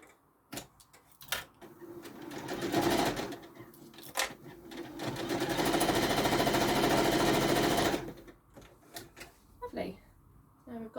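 A sewing machine runs a straight stitch along a small handbag in two rapid, rattling bursts, a short one and then a longer steady run, with clicks and fabric handling between them.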